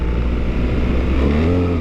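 A 2024 BMW R1300GS Trophy X motorcycle rides on gravel, its engine giving a steady, close drone with rising pitch in the last moments.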